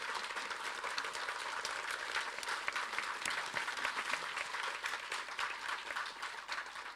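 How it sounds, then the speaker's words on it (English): A crowd of graduates gives another round of applause, a dense, continuous clapping heard from a distance at an even level across several seconds. "Please, another round of applause"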